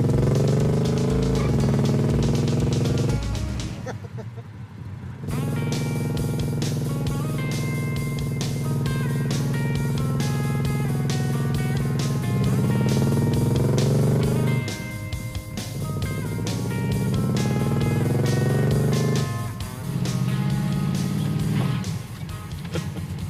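A car with a shift kit drives on the road, its engine climbing and dropping through hard, abrupt gear shifts in repeated cycles, loud and close throughout with a brief lull early on.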